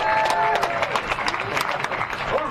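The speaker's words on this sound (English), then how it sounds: "One more time, a nice round of applause for Brandon Quaid" A small crowd applauds the third-place finisher at a Bagger Racing League awards ceremony at Chuckwalla Valley Raceway, scattered close claps over brief background talk.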